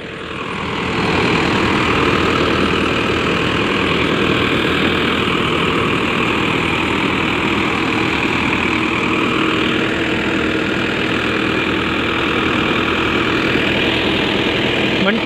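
Two tractors, a Sonalika 750 and an Arjun Nova 605, run together while loading a trolley, giving a steady loud diesel drone that holds evenly throughout without talk.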